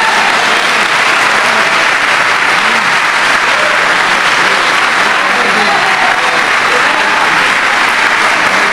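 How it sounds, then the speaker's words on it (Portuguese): A church congregation bursts into dense, sustained applause that fills the whole stretch at a steady loud level, with faint voices and cheers mixed in. "Você pode aplaudir a Jesus?"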